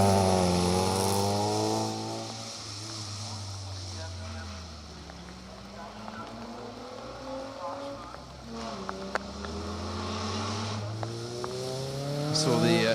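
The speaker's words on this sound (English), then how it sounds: "there's the incredibly loud and antisocial Ford Sierra XR 4x4 of Ross" A loud Ford Sierra XR 4x4 rally car runs a historic rally festival stage. Its engine revs and drops in repeated rising and falling sweeps as it passes and accelerates away, under continuous commentary.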